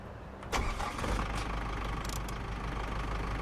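A truck engine in Storage Hunter Simulator turns over and catches, then settles into a low steady rumble that continues on its own, close and moderately loud.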